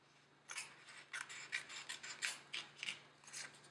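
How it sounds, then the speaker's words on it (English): Scissors snip through paper to cut out a small rectangle, a close series of about ten crisp, evenly spaced cuts in a quiet room. "I'll just cut a rectangle for the front and a rectangle for the back"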